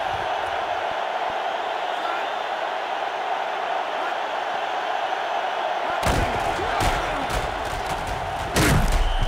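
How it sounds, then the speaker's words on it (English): A constant roar of stadium crowd noise from a college football video game, Ohio State at Oregon, loud and steady, with heavier thuds and bursts breaking in during the later seconds. "Also, the crowd way too loud."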